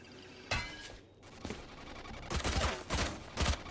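Gunfire in a Valorant match during a PCMT S2 LCQ esports game, heard as loud bursts of rapid shots at about half a second, one and a half seconds and in dense volleys from two and a half seconds on.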